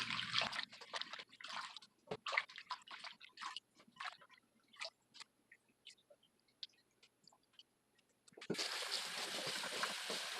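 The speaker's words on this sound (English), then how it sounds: "I'm going to put them in a salad spinner and run cold fresh water on them to rinse them better." Cold tap water runs over fresh basil leaves in a salad spinner, with scattered drips and splashes and short rustling pauses before a steady, close stream of running water returns at the end.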